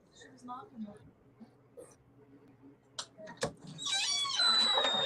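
A cat gives a few short meows close by, mixed in among people talking, before a louder burst of clatter and noise at the end.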